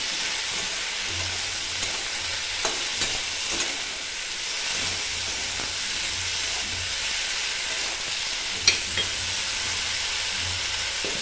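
Okra and potato curry frying in a pan for a Bengali bhindi dish, a soft continuous sizzle with occasional clinks and scrapes of stirring, close but fairly quiet, with no talking.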